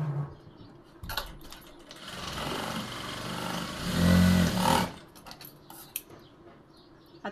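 An electric sewing machine stitches the shoulder seam of a blouse in one continuous whirring run of about three seconds, close and moderately loud, with handling clicks before and after.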